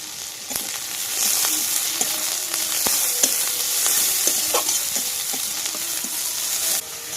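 Whole cumin seeds and green chillies sizzle and crackle steadily in hot oil, with occasional stirring scrapes and pops, close and continuous throughout.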